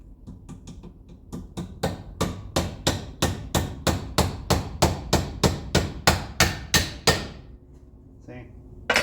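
About twenty sharp, evenly spaced hammer taps drive a door hinge pin into a B, C or E body Mopar muscle car door, starting soft and growing louder and steadier, close up with no talk.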